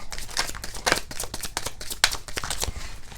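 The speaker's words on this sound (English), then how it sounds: "And giving a couple more shuffles here." Slippery cards are shuffled up close, a quick series of papery riffles and flicks, several soft bursts in a row with no talking.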